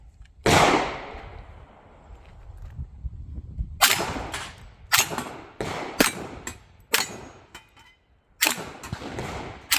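A Fusion Firearms 1911 pistol built on a PSA frame fires about seven sharp, loud shots outdoors at an uneven pace, each one a crisp crack with a short trailing echo.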